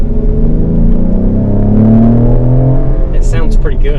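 Engine note of a 2020 Ford Explorer ST, partly an imitated sound played inside the cabin, heard as a loud, steady droning rumble that rises in pitch, with someone speaking over it near the end.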